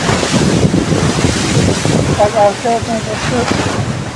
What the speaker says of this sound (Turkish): Deniz arkadaşlar bak, dalgalar var. Dalgalar var, şuraya bak, dalgalar vuruyor bak.